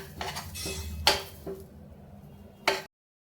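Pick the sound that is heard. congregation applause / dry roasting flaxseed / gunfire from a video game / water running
dry roasting flaxseed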